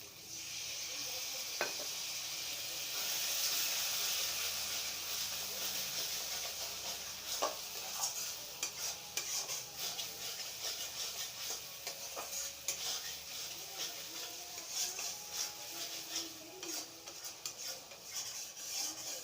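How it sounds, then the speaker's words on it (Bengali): Spices for a pabda fish curry sizzle steadily in a pan with a little water added, with a spoon stirring and scraping against the metal now and then, close and continuous. "মশলাগুলোকে ভালো করে কষাতে হবে, অনেকক্ষণ ধরেই কষাতে হবে"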